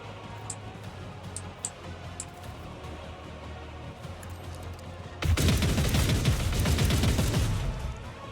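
Gunfire in Rogue Trader, a dense burst of rapid shots that erupts suddenly after a quiet ticking stretch and rattles loudly for about three seconds before easing off.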